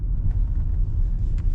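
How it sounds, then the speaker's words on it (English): Interior cabin rumble of a 2011 Lincoln MKX on a test drive after brake work, a steady low road and engine drone with no talk. "Let's go take it for a test drive."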